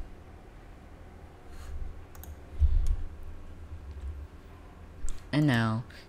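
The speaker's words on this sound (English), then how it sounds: "now you're gonna click on this" Computer mouse clicks while installing macOS in VMware: a few sparse, sharp clicks spread across a quiet background, with a brief voiced sound near the end.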